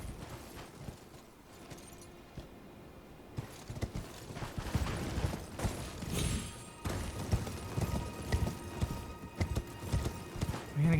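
A horse gallops along a road in the video game Elden Ring, its hooves beating a rapid, rhythmic clip-clop that starts faint, then grows louder and closer.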